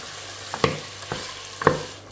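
Meat fries in a pan with steady sizzling while a utensil stirs it, giving a few sharp scrapes and clacks against the pan over the continuous frying hiss.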